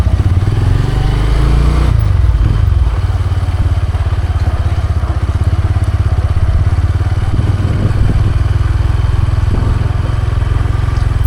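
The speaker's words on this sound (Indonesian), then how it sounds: "Oke, kita lanjut naik sepeda motor ke sana." A motorcycle rides along a village road near Tarutung with a loud, steady, close engine drone and constant wind buffeting for the whole stretch.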